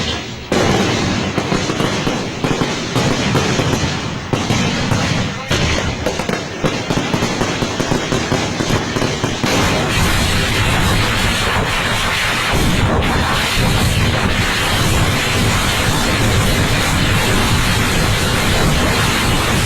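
Fireworks at a temple fireworks contest in Kerala crackle and bang in a dense, relentless barrage of overlapping blasts, loud and continuous.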